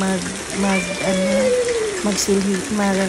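Steady rain pours down outdoors around a house in Gingoog City, Philippines, a constant hiss under nearby voices talking cheerfully over it.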